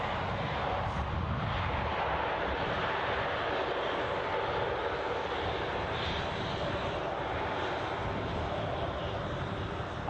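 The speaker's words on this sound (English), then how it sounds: "I'm going to close the show with the departure of the Finnair." A Finnair airliner departs Edinburgh Airport, its jet engines roaring in a loud, sustained wash that holds steady for the whole stretch.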